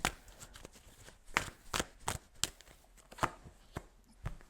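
Tarot cards being shuffled and drawn by hand, a close, quiet series of crisp card slaps and riffles in an uneven rhythm, with no talking.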